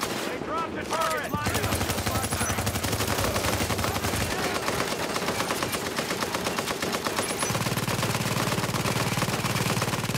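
Sustained automatic gunfire in the cover-shooter game Tom Clancy's The Division, dense rapid bursts filling the whole stretch, loud and continuous with layered battle noise.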